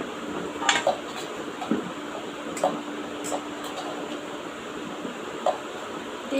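Ingredients are mixed together in a bowl with soft, continuous stirring and occasional light clinks of a utensil against the rim, close and steady without talk.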